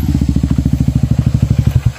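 A motorcycle engine idling close by, a loud, steady rapid chugging pulse with even thumping beats throughout and no talk.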